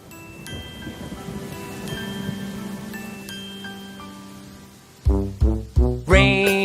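A rain sound effect gives a soft, continuous patter with faint ringing tones, and a few loud melodic notes enter near the end.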